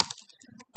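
Quick keystrokes on a computer keyboard while entering a MySQL database command, a short cluster of light clicks in a row, close and clear with no voice over them.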